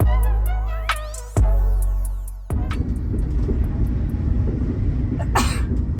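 A single sharp sneeze aboard a UK sleeper train, heard near the end over the low running rumble of the carriage after a few drawn-out tonal sounds.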